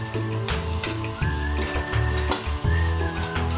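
Carrots and tomatoes sauté in a hot pan with a busy sizzle and stirring, heard beneath a prominent backing of music that runs throughout.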